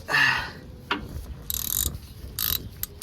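A socket wrench ratchets as it tightens a bolt on a 2001 Ford Expedition during a transmission fluid change, with several close, loud bursts of rapid clicking separated by short pauses.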